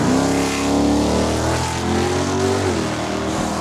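Drag racing cars at Saskatchewan International Raceway, one of them an Audi, roar down the quarter mile with loud engine drone and rising revs that swell and then fade slightly, no talk over the engines.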